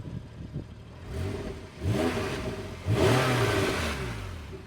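A 2013 Porsche 911 Carrera S (991.1) on the standard exhaust with the sports valves closed revs up in three rising pulls from idle, each louder and throatier, heard close and alone.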